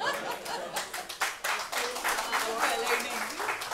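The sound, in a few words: audience clapping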